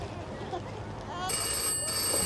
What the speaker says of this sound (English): I'm not employed to answer the phone, Frank.